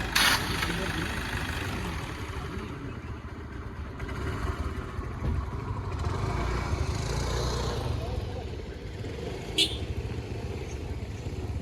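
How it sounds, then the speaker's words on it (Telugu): A 2016 Toyota Innova 2.5 G diesel runs steadily, a continuous low rumble under the whole stretch with a brief sharper noise near the end, while someone talks over it. "ఇంజన్ కండిషన్ మాత్రం ఎక్సలెంట్గా ఉంది"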